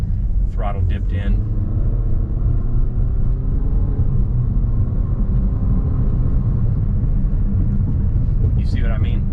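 An Infiniti QX50 2020 Edition 30 car heard from inside, its engine a steady low rumble that holds evenly as it turns and accelerates, with brief bits of voice at the start and end.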